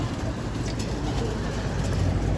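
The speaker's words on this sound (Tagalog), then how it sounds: "Itong ibon ng i-video mo" A pigeon coos softly against a continuous wash of outdoor background noise, the low calls sitting under a fairly even din with no clear voices.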